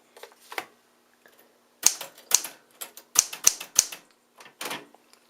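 A blue 1970s Smith Corona Classic 12 portable manual typewriter, some keys sticky and due for a tune-up, types in sharp, irregular key strikes, a few single clacks and then a quick run of loud, close, mechanical snaps.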